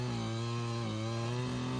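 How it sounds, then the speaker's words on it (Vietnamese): Takio TK3B hand-pushed earth auger with a 68 cc, 1.8 kW engine, used for boring fence-post holes, runs at a steady, loud idle with an even buzzing drone throughout. "Đây là dòng máy khoan hố đẩy tay Takio TK3B"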